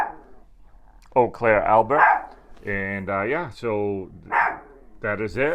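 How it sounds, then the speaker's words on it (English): A dog barks in several short bursts close by, over a person talking throughout. "Sorry about the dog barking."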